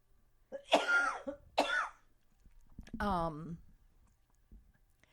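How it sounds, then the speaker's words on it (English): A few harsh coughs near the microphone, followed by a short voiced throat sound, then quiet. "I'm going to cough again."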